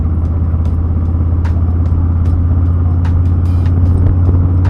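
A motorcycle fitted with a TBR Turnout 2-into-1 exhaust idles loud and close, giving a deep, throaty, pulsing rumble that holds steady throughout, with a few sharp clicks and taps on top.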